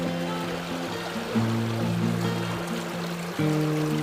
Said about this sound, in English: And this is what the hillstream habitat looks like.